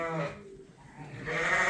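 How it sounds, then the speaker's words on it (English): Lambs on a farm bleat close by, one wavering, nasal call opening and another rising near the end, with no talk over them. "And you have 2 lovely lambs."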